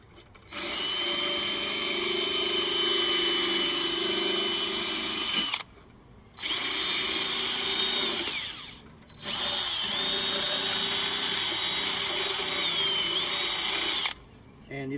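A power drill whirs loudly and steadily, grinding metal on a smoker down to the bare surface in three long bursts separated by brief pauses.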